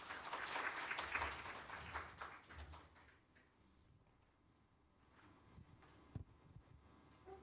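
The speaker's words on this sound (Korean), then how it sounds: "여러분 큰 박수로 맞이해 주십시오" Applause at an international workshop on best available techniques as a presenter is welcomed to the stage, a dense burst of clapping for about three seconds that then thins out into scattered claps and room noise.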